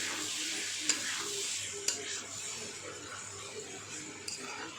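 Soaked sago is stirred into a pan for sabudana khichdi. It makes a continuous soft sizzle and hiss with a few distinct spoon scrapes and taps against the pan.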